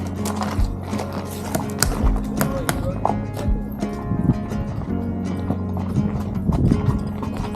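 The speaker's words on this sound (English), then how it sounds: "I never thought I would be riding a famous horse right outside of Hollywood" Hooves of a ridden horse clip-clop in a steady, close rhythm outside Hollywood in California, with creaks and rustles around them.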